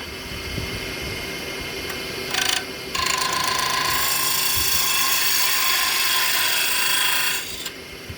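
A wood lathe turns a koa spinning top while a tenon is cut, a steady close hum of the spinning stock overlaid with a harsh scraping hiss from the tool that starts, stops briefly and then runs for several seconds.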